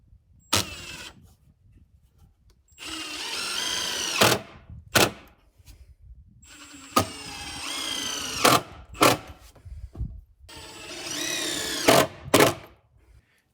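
A power drill drives 3-inch self-tapping deck screws into lumber for a freestanding cabin deck, in repeated whirring bursts that rise in pitch and stop abruptly, separated by brief sharp clicks and quiet gaps.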